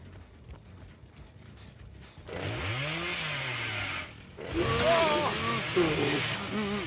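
Chainsaw revving in Dead by Daylight, wielded by the killer Bubba, bursting in with rising and falling whines after a quieter stretch, loud and close, while someone talks.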